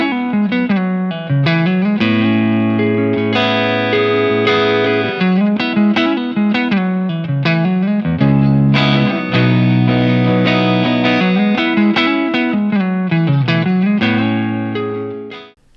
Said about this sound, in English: Let's listen to a sound example of a clean tone with one of the 1x12 cabs and the low gain voicing.